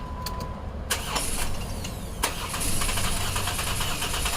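A 2011 Jeep Wrangler with a 3.8L engine and misfire and camshaft codes cranks over, a few clicks giving way to a steady, loud starter and engine churn that continues to the end.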